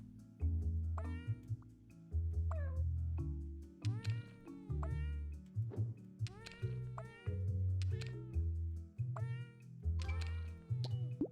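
Cat meows from the video game Cat Tetris repeat in quick, loud, close bursts, roughly a dozen drawn-out and wailing cries over a low musical backing, with no speech.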